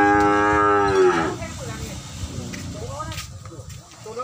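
A Brahman bull or cow at a breeding cattle farm gives one loud, drawn-out moo up close, then fades into farm ambience with more distant lowing and people talking.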